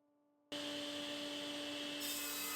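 A saw bites into wood panels for a nightstand, a sudden loud, steady whirring rasp that starts after a half-second of quiet and carries on without a break.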